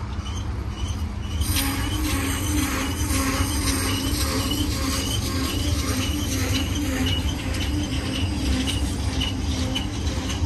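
A BNSF domestic intermodal double-stack freight train approaches the San Bernardino hub near a golf course, a steady broad rumble with faint wheel squeals and rail noise throughout, heard from some distance.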